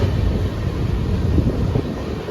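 Pinakini Express passenger train cruising at about 108 km/h, a steady close rumble of wheels and carriage with wind rush, continuous and fairly loud with no talk.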